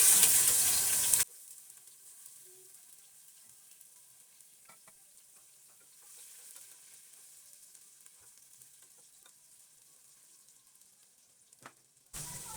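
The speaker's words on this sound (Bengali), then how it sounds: "এখন দিয়ে দিব আদা কুচি, রসুন কুচি, পেঁয়াজ কুচি, কাঁচামরিচ কুচি। এগুলো ভেজে নেব।" Chopped ginger, garlic, onion and green chilli fry in two tablespoons of oil for chicken fried rice: a loud sizzle burst, then a long faint crackling simmer, and another loud burst at the end.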